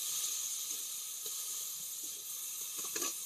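Washed masoor dal frying in hot mustard oil in a heated pan, a steady bright sizzle holding throughout with a few faint scrapes and small pops near the end, no voices.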